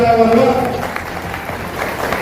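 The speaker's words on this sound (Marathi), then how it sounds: "त्यांचा आपण टाळ्या वाजवून फुटच्या टाळ्या वाजवा" Crowd applause at a Veershaiva Shiva Sanghatana women's wing gathering in Nanded, greeting a newly announced district vice president; steady clapping continues through the clip with a voice speaking over it.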